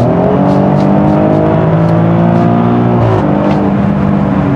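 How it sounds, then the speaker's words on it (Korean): Maserati Grecale Trofeo SUV in Comfort mode, its engine droning loud and steady under acceleration, with the pitch dropping as it changes gear near the end and a brief crackle from the exhaust. "컴포트 모드에서 자동으로 변속되는 시점에서 이제 배기음이 부욱 하고 터지는데"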